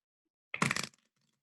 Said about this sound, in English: I have another deck of cards here that I'm going to shuffle.